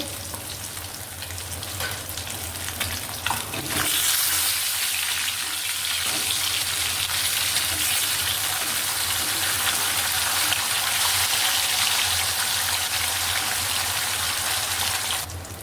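Rohu fish pieces fry in hot oil with a steady, dense sizzle that swells loudly after a few seconds and holds evenly to the end, with faint clinks and no voices.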